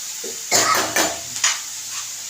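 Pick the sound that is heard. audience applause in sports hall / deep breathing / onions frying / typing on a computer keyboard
onions frying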